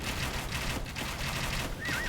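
Bombard cannons fire in a real-time strategy game match, a dense rattling barrage of shots that runs on steadily without a break, loud and close in the game's mix.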